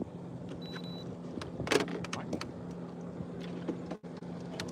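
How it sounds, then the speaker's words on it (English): A steady low boat engine drone hums in the distance throughout, with scattered clicks and a brief louder rustle midway; no one speaks. "Y'all, I hear a boat."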